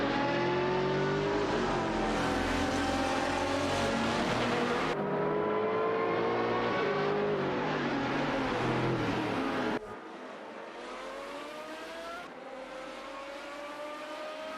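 A Porsche Carrera GTR and a Maserati MC12 GT1 battle side by side in a racing video game, loud revving engines climbing through gears with sharp shifts, then fading to a thinner, more distant whine near the end.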